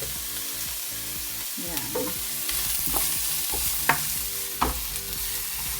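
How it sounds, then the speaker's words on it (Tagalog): Ingredients for kare-kare sauté in a pan, with a soft steady sizzle broken by the scrapes and clicks of a utensil stirring, while one brief word is spoken. "Gisa-gisa lang natin."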